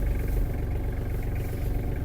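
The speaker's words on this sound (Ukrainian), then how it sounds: "і тракторець завівся" A Kubota KT-27 mini tractor's engine idles steadily and loudly up close after starting, a continuous low rumble with no voices over it.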